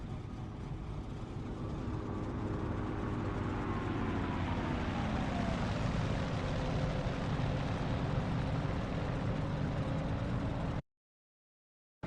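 A P-40 Warhawk's piston engine drones continuously in the DCS flight simulator, a steady rumble whose pitch sags and shifts midway before cutting off abruptly near the end.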